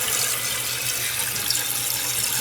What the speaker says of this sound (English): now see, the water's filling the bowl